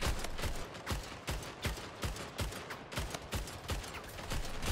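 Rapid gunfire in the arena shooter Splitgate, a fast run of sharp evenly spaced shots repeating for several seconds at close range, with no talk over it.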